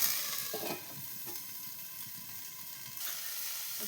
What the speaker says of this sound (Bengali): তেল দিয়ে কড়াইতে ফুলকপিগুলোকে এবার আমি লাল লাল করে ভেজে নেব ফুলকপিটাকে